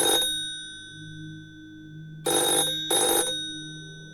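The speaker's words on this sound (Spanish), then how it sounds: "Mientras examinaba el teléfono, este comenzó a sonar" An old telephone rings with a sharp metallic bell tone in three bursts: a brief one at the start, then two close rings after a pause, with a low hum underneath.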